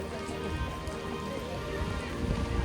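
Steady monsoon rain falls in Udaipur, a soft continuous hiss and patter with a faint low rumble underneath, even and moderately quiet throughout.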